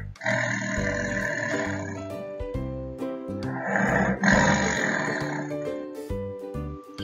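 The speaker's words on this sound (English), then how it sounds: "Yes, it's a tiger." Tiger roaring, a loud, close series of deep rumbling roars and growling grunts repeating across several seconds, with a rougher breathy swell in the middle.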